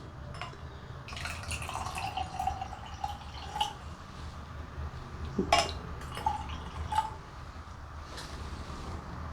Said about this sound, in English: I'm just going to pour out roughly 100 millilitres